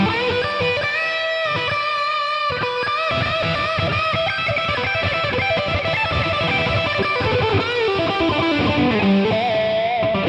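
An electric guitar solo with a distorted, effects-laden tone plays a busy run of bent and picked notes, drenched in a wet reverb, loud and continuous with no talking.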